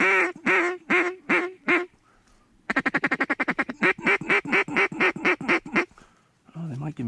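Ducks quacking on a marsh, close and loud, a run of rapid repeated quacks, a brief lull, then a long fast series of quacks tailing into slower calls.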